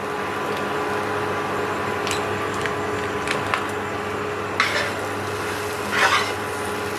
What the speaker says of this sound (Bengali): একটু ভালো করে আমি ভেজে নেব।